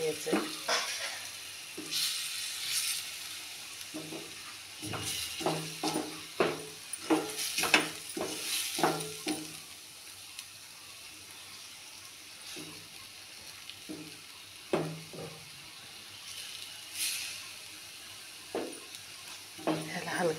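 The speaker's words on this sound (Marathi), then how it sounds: "हे वाटण आपण वाटून घेतलेलं ह्याच्यात घालायचं आणि हलक्या हातानं परतून घ्यायचं." Ground masala paste is sautéed in a pan for a moth bean curry, a soft sizzle under repeated scraping stirs with a spoon, while someone talks quietly throughout.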